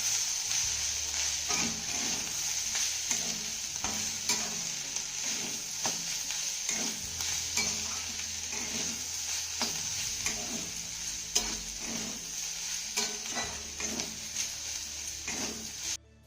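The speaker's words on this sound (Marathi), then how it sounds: "त्यानंतर हे सर्व साहित्य आपल्याला पुन्हा 2 ते 3 मिनिटं चांगलं परतून घ्यायचं आहे." Jowar khichdi with finely chopped coriander being sautéed and stirred in a pan, a steady sizzle with repeated scraping and clicking strokes of the spoon, close and continuous.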